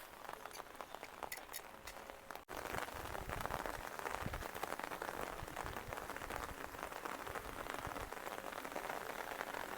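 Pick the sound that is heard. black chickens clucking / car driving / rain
rain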